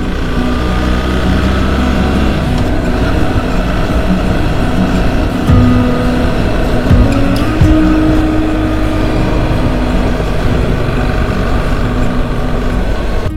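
A BMW R1300 GS motorcycle cruises in sixth gear around 2500 rpm through central Bordeaux in foul weather, its engine a loud, steady, unbroken drone mixed with road and wind noise.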